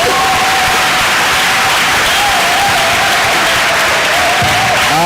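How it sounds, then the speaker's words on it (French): A church congregation bursts into loud, sustained applause and cheering in praise of the Lord, a dense crowd roar close by, with a voice rising above it. "Acclame le Seigneur"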